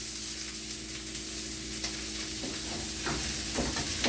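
A beef filet sears in a hot pan with rosemary, giving a steady close sizzle with a crackling hiss throughout and a few sharper pops near the end.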